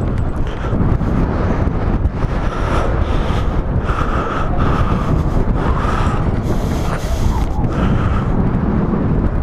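Strong wind roars continuously into the microphone beside a California aqueduct, a steady buffeting rush with no voices.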